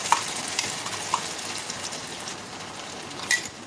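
Poppy, mustard and sesame paste frying in a pan on a low flame for Bengali ridge gourd curry, a soft, steady sizzle broken by a few sharp clinks of the stirring spoon.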